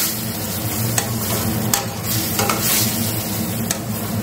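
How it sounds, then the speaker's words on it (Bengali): Fried okra stirred into spice masala in a hot pan, giving a loud continuous sizzle with repeated scraping strokes of a spatula, close up and without talk. "এবার এর মধ্যে ভেজে রাখা ভেন্ডিগুলো দিয়ে দিচ্ছি। মশলার সাথে মিশিয়ে নিয়ে খুব ভালো করে কষিয়ে নেব।"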